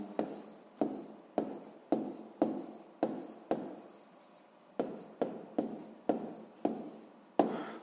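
A pen writes a geometry answer by hand on paper for a sixth-grade math exercise, giving rhythmic strokes and taps close to the microphone with short pauses between words.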